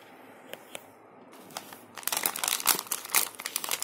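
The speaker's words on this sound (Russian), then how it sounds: "сейчас при вас я вскрою желтый пакет, и мы посмотрим, что же там находится." A crinkly yellow plastic packet is torn open close up: a few faint taps first, then loud, busy crackling and rustling of the plastic for the last couple of seconds.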